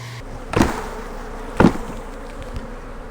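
Close, steady buzzing of many honey bees on hive frames, interrupted by two sharp knocks of wood, like a frame being bumped.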